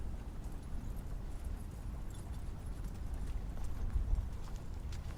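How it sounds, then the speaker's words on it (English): Horse hoof beats used as a sound effect in a tabletop role-playing session, steady soft clip-clop with a low rumble, fairly quiet and alone. "That horse sound."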